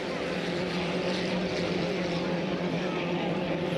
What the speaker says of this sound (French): affiche une belle vitesse dans son embarcation, le T777